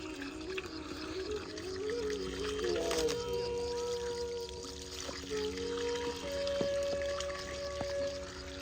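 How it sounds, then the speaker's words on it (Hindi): Water trickles and pours faintly from a newly fitted tap outdoors, a quiet, steady liquid flow with gurgling tones and occasional drips. "अब उसको चला रहे हैं और देखते हैं कुछ ही क्षणों में पानी आने वाला है"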